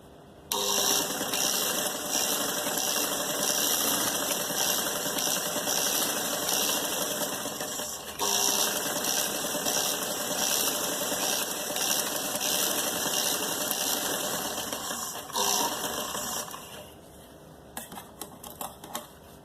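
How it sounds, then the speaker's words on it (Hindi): A sewing machine hums and clatters continuously for roughly sixteen seconds, doing fine edge stitching on a kameez sleeve, then slows into scattered short bursts and clicks as it stops. "ये देखें, इस तरीके से बारीक हम सिलाई करेंगे।"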